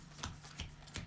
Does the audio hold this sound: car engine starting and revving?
no